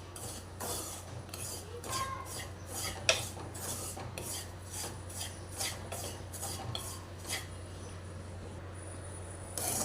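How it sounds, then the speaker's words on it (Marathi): Semolina roasting in ghee in a pan, stirred with a utensil that scrapes and clinks against the metal in a steady rhythm over a low continuous hum, close and moderately loud, with no talking. "एक वाटी रवा आहे ना, तुपामध्ये छान असा भाजून घेऊया आपण."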